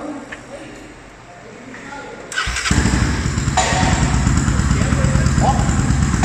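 A Honda CB 300 with a high-rev cam and 1 mm oversize piston starts up after a quiet moment, then idles with a lumpy, pulsing exhaust beat, loud and close.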